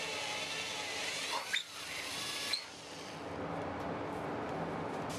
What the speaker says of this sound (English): And then drill to suit.